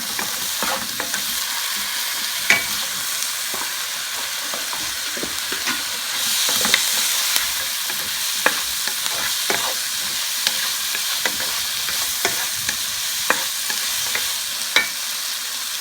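Garlic and ginger frying in hot oil in a pan, a constant bright sizzle with scattered crackles and pops, close up and steady throughout, no voices.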